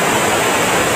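Steady broadband roar of the Curug Cisanca waterfall at Ciater, Subang, a dense continuous rush of falling water filling the whole moment with no voices.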